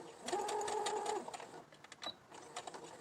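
A sewing machine stitches a fabric face mask, whirring steadily for about a second, then running in shorter stop-start bursts as the needle reverses a few stitches. It is close and clear, with no talking.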